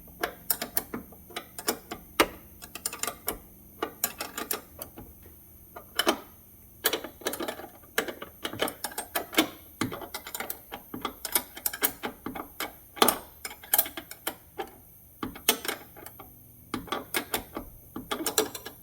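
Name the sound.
wrench ratcheting door hinge bolts on Silverado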